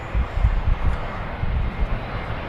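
A Qantas Link airliner turns on the runway at Perth airport, its engines giving a low, rumbling drone with gusty wind buffeting, heard from a distance, steady throughout.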